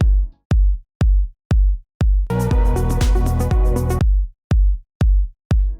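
Isolated electronic kick drum from a melodic techno track, a steady four-on-the-floor pulse of deep, punchy thumps, briefly joined midway by a dense burst of layered synth music before the lone kick resumes.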